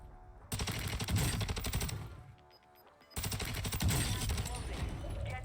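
STB 556 assault rifle fire in a video game, two long rapid full-auto bursts separated by a brief pause, loud and close.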